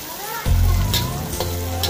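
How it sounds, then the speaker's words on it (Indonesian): Torch ginger flowers (bunga kantan) hit hot oil and burst into a loud, crackling sizzle that continues steadily, with some stirring noise over it. "Goreng dulu bunganya."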